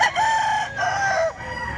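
A gamefowl rooster crows once, loud and close, a drawn-out cock-a-doodle-doo with a rising then falling call that fills the whole moment.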